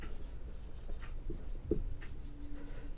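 Chalk or marker strokes on a board during a physics lesson, a few faint short scratches spaced irregularly over a low room hum, quiet and without speech.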